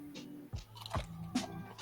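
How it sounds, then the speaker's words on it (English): Crispy bacon cooked in water until the fat renders gets bitten into, giving several short crunchy snaps spaced about half a second apart, close and clear over a faint background. "Listen to that crunch."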